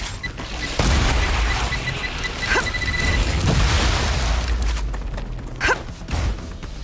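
Grenade blast in the sci-fi survival game StarRupture: a loud booming explosion with sharp bangs during a dense, continuous rumbling din, nearby and heavy.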